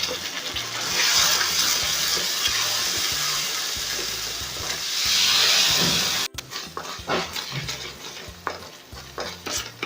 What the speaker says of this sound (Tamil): அந்த டொமேட்டோ பேஸ்ட் இதில் ஆட் பண்ணுறோம்